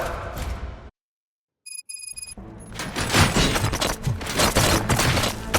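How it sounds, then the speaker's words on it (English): Gunfire erupts in the video game RoboCop Rogue City: after a moment of silence and a few electronic tones, rapid overlapping shots and crackling bursts build into a loud, sustained barrage. "Gunshots? What's going on?"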